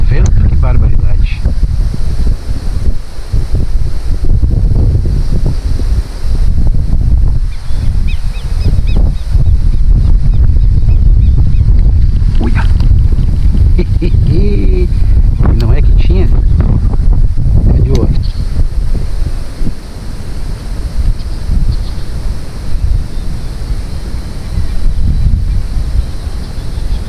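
Strong, steady wind roars and buffets the microphone throughout while fishing for traíra from a boat on the water, with occasional voices faintly under the noise.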